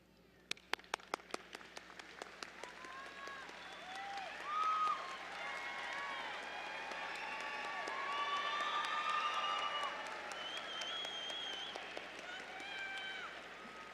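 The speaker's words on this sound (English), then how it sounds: "find your supporters, your collaborators, and give them a big round of applause." At a university spring commencement, standing graduates applaud their supporters, starting with a few sharp early claps before swelling into a broad, sustained wash of applause and scattered cheers from a large crowd filling the hall.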